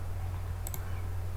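Computer mouse clicking a compile button, two quick sharp clicks close together over a steady low electrical hum.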